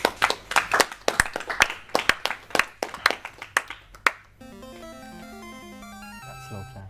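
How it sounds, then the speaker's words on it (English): One person gives a deliberate slow clap, about a dozen crisp claps evenly spaced for around four seconds, then stops as chiptune-like video game music takes over. "That's slow clap"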